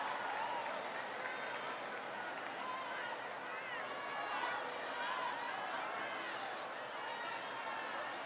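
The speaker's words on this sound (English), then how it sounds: "Give him a big round of applause." A big audience applauds New York governor Andrew Cuomo at a presidential event on college affordability. The crowd claps steadily in a continuous wash, mixed with murmuring voices and chatter throughout.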